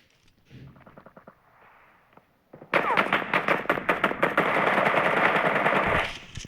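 Rapid machine gun bursts in the PUBG Mobile battle game, loud and close, rattling continuously for several seconds after a few quieter shots, with no talk over them.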